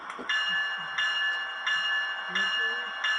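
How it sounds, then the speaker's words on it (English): A model train's electronic bell on an L&N-themed locomotive rings in five steady, evenly spaced metallic strikes about two-thirds of a second apart, close and moderately loud. "let's hear what the bell sounds like"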